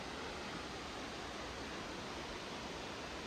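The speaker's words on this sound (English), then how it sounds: "there's a waterfall this way. You can probably hear it in the background." A steady, even rush of a waterfall fills the air on a forest trail, a constant broadband roar heard from some distance, faint with no voices.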